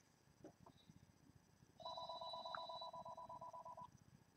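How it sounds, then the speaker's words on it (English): A telephone rings in a steady electronic warble, a series of rapid repeated tones lasting about two seconds, fairly faint over quiet background noise. "Please, somebody pick up that phone."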